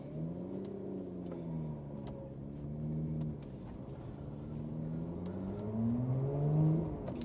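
Lotus Evora 410 sports car pulling away in sport mode, engine note rising and falling through revs in a steady cabin drone, harmonics sweeping upward near the end.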